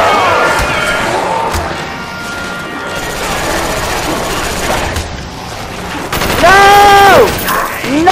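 Dual pistols firing during a co-op zombies round of Call of Duty Black Ops on the Kino Der Toten map, a busy run of shots over dense game noise, with a rising musical tone near the end.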